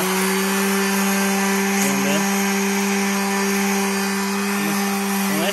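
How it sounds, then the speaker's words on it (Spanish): A power sander works steadily on scratched flat car rims, producing a continuous broadband grinding hiss with a steady motor whine throughout, close and fairly loud, with no talking. "Así que vamos a empezar amigos lo que es lijar."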